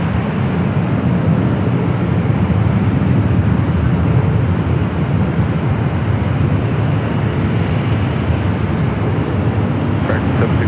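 Apex Logistics cargo plane arriving from Anchorage passes overhead near the H Hotel at LAX on approach to runway 25 left, a steady broad jet roar that holds loud and even throughout.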